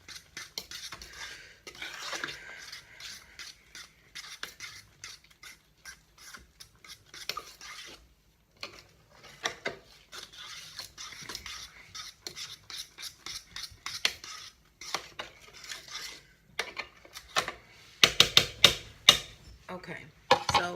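Buttermilk cornbread batter is stirred in a bowl with a utensil, producing soft irregular scraping and clinking strokes, quiet and close, with pauses between bursts and a livelier flurry near the end.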